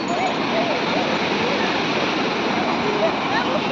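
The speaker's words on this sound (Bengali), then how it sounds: "ওই কত দূর থেকে দেখ ঢেউগুলো উঠে উঠে আসছে" Ocean waves break at Puri beach in a loud, unbroken roar of surf close by.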